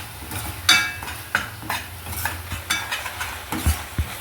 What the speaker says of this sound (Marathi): साखर मेल्ट व्हायला लागल्यावर ह्याच्यात ड्रायफ्रूट्स टाकून घ्यायचे म्हणजे ते पण छान परतले जातात